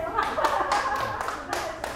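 Mothers in a studio audience clap loudly in a steady rhythm of about eight sharp claps, close and bright, with faint chatter underneath.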